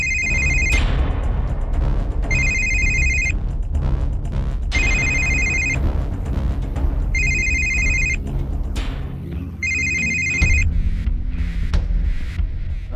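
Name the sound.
telephone ringing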